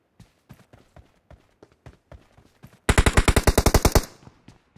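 Scattered single gunshots in the video game PUBG, then a rapid burst of automatic fire for about a second, loud and sharp, followed by a few more isolated shots.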